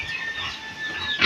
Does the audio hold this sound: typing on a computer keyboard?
no